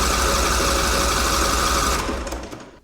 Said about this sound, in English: I'm gonna spin the engine over again, and this time we're gonna make sure we got spark.